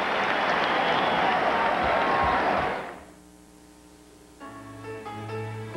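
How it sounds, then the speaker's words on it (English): A basketball arena crowd at a 1986 Georgia Tech versus North Carolina college game cheers and applauds loudly for a defensive play, a dense roar that fades after a few seconds as music begins. "Cheering for the Tar Heels' defensive effort."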